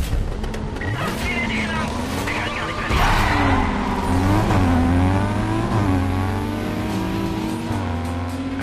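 Engine revving and accelerating from a racing car in Need for Speed Carbon, loud and continuous with rising and falling pitch, gear shifts and tire noise, while someone talks over it.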